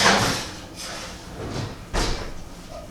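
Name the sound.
oven door closing after putting cod back in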